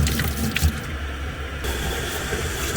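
Water from a tap splashes and runs as a car part from a Nissan Leaf gearbox is rinsed with soap. The flow is steady and close, with a few sloshing bursts.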